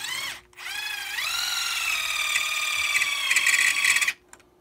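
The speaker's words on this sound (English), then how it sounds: "we can drill out the middle of this rivet" A power drill drilling out a rivet on a camper shell lift gate bracket whirs continuously for several seconds, its pitch rising as it spins up, then stops abruptly; no talking.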